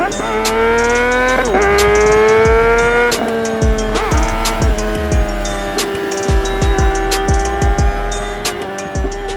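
A sport motorcycle at a Swedish bike meetup revs loud and close, holding a high steady note through a wheelie, with repeated dips and rises as the throttle eases and reopens.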